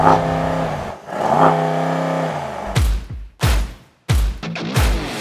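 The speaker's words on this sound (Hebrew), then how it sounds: "אתה יכול להפעיל את המנוע מכאן, ויש לו רעש V8 הבשרני והמוכר של AMG" A Mercedes S63 AMG V8 is started and revved, a deep harmonic engine drone that swells twice, then sharp throttle blips and loud crackling bursts, close and strong with no talking.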